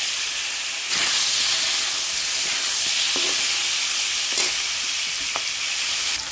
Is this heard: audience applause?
no